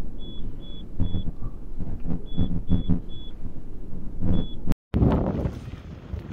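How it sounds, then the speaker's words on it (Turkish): Violent windstorm buffeting an earthquake victims' tent camp in a village near Herat, Afghanistan: loud, continuous gusting rumble and flapping, with a brief dropout near the end, no talk. "Aşırı bir şekilde fırtına var."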